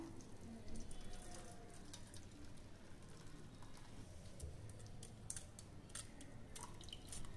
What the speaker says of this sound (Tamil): இப்போ ஒரு வடிகட்டி வச்சு இதை நல்லா ஃபில்டர் பண்ணிடலாங்க.